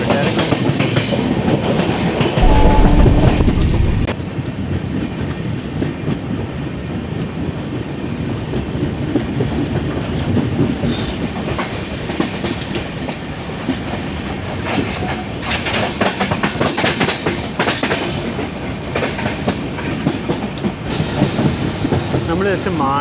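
Duronto Express train rolling across the Mandovi river bridge, a loud steady rumble with rhythmic clickety-clack of wheels on the rails and a hissing rush throughout, heard from inside an AC 3-tier coach.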